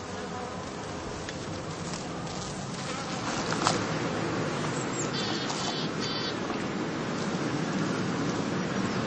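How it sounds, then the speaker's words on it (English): A dense swarm of honey bees takes off from a heather skep at a new heathland apiary site, a steady, loud, continuous buzzing drone with no gaps, close and enveloping throughout. "This allows the bees, as soon as they have arrived at the new site, to set out on their first orientation flight"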